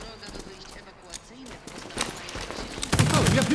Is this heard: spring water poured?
no